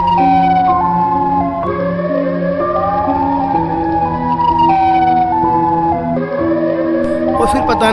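Siren Head, a cartoon horror creature from a zombie game story, blares its siren in a loud, continuous wail of stepped, overlapping tones that shift pitch every second or so, filling the whole stretch alone.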